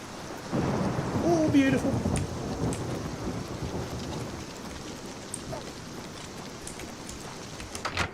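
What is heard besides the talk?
thunderstorm with rain in the video game Oblivion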